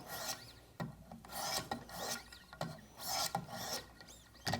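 A Schrade PH1 hunting knife blade being sharpened on a stone, rhythmic rasping strokes repeated back and forth at close range, quiet and steady, with no speech.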